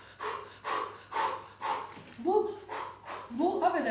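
A person imitates a dog panting with a run of rapid, rhythmic huffing breaths, about eight puffs in quick succession, close and fairly loud.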